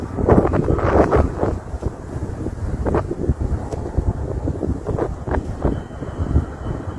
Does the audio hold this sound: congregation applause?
no